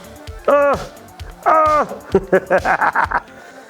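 A dog barks and yips in short bursts, close and loud, while a drone chases it through a warehouse or office.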